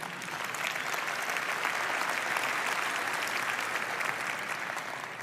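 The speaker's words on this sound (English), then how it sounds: "Only at GTC do you get an applause for that." A large audience applauding during a keynote at GTC, Nvidia's tech conference, a broad, even roar of clapping that swells slightly early on and then holds steady, with no speech over it.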